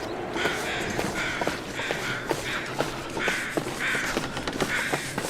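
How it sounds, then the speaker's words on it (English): Crows caw repeatedly outdoors, a string of harsh calls at fairly regular intervals, moderately close over a noisy background with occasional footstep-like thumps. "I hear crows"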